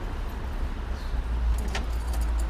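Street traffic rumbles steadily nearby, a low continuous drone of passing cars swelling as one goes by, with a faint metallic jingle partway through.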